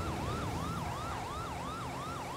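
A wailing police siren sweeps up and down in steady repeated cycles, loud and continuous over a rumble of traffic.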